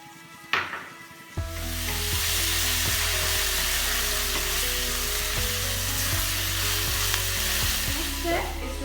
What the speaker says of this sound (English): Let's add ginger garlic paste into this.